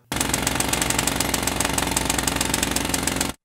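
A clock-like tone built from the check hammer sample in the Vital synth, a dense, steady mechanical rattle of rapid even pulses that runs loud and continuous for about three seconds before cutting off.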